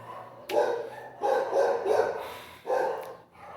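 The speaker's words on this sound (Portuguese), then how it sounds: "Principalmente com esse cachorro aqui latindo no ouvido" A dog barks repeatedly nearby, several loud bursts in irregular succession with short pauses between them.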